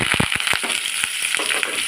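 Crackling, sizzling oil with sharp pops and spatters as garlic, onion and curry leaves hit a hot pan, steady and close throughout.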